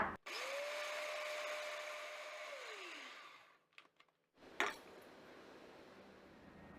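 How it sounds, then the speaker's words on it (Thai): Roasted dried chilies ground fine in an electric blender: a steady, loud motor whir for about three seconds that winds down, then a brief gap and a few clattering knocks. "นำพริกที่คั่วไว้มาบดให้ละเอียดนะคะ"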